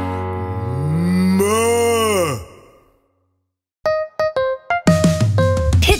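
A long, loud, close cow moo in a children's song, sliding and groaning over about two seconds, followed by silence and then a burst of bright plucked musical notes.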